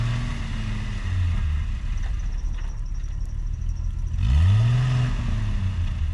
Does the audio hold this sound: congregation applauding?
no